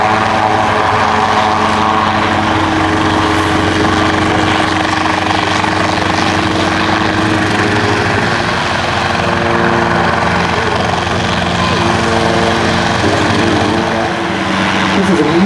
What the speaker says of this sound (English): Nice job by Sean Johnson with the Schweitzer S269 from Pocono Mountains Municipal Airport.